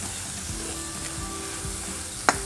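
Blanched instant noodles with egg and shredded cabbage are stir-fried in a crowded pan, producing a steady close sizzle with soft scraping as the mix is tossed, and one brief clink near the end.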